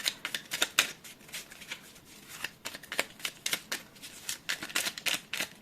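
A deck of pick-a-card cards being shuffled by hand, a run of crisp riffling flicks in irregular bursts with short pauses, close and fairly quiet, no talking.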